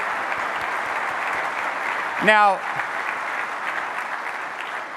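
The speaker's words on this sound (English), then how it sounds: "Please give a big round of applause for Corey and Jean Baldwin, the very first" Audience applause at a corporate conference opening welcome, honoring the company's first customers: steady, dense clapping that fills the room throughout, with a brief high whistle-like sweep midway and a voice speaking briefly.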